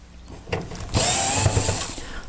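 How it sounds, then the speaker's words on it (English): A power driver whirs steadily as it backs screws out of the side panel of a heater, preceded by a few clicks and handling knocks, close and loud. "you would lay it down on one side and then remove the 5 screws"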